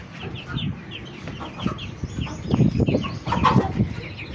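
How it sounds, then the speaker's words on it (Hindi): Several chickens cluck and murmur close by in a farm shed, with soft overlapping calls that grow busier toward the end. "इधर मुर्गियां भी हैं हमारे पास, पूरा शेड फार्म बनाया हुआ मुर्गियों का।"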